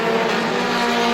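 Stock cars roaring down the back straightaway at Star Speedway in a Roadrunner feature race, a dense, steady engine drone with a constant pitched tone throughout and no break.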